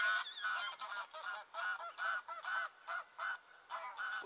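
A flock of geese honking repeatedly by a carp fishing lake, a rhythmic run of loud, fairly close honks with short gaps between calls.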